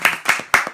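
A few separate hand claps at a bris ceremony, about four sharp close claps spaced unevenly, sparse rather than full applause.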